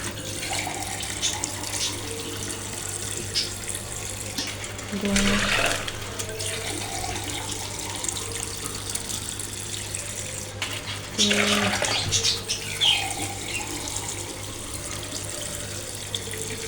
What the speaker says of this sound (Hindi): और पानी डालते हैं इनके में 2 गिलास